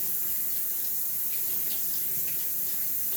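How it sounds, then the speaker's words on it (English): Steady tap water runs and splashes as celery is rinsed under it in a kitchen sink, a continuous close hiss with no talking. "to always wash your celery"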